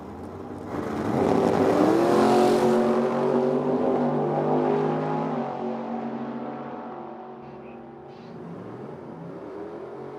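A drag racing launch with a 1971 Nova: a loud engine roar builds quickly at the start and holds strong for several seconds, then gradually fades as the cars pull away, with no talk over it.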